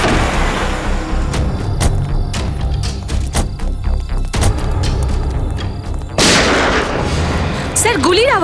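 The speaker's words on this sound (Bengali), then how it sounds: "স্যার, গুলির আওয়াজ।" Loud gunshots in a bungalow, several sharp blasts in irregular succession over a tense dramatic backdrop, with a voice calling out between them.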